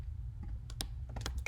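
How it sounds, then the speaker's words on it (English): Typing on a computer keyboard while coding in Python, a quick scatter of close, crisp key clicks over a steady low hum, uneven in rhythm with a few louder taps. "if I can type right, there we go"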